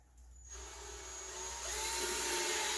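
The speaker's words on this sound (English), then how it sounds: "You're going to drill a hole" A power drill bores a hole through a plastic bucket lid, its whine starting after a brief quiet moment and building steadily louder and higher as the bit cuts through.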